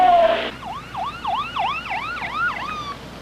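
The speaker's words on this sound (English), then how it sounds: "I can hear their siren there in the background" An emergency siren wails in rapid repeating swoops, fairly loud and close, following a brief tone at the start.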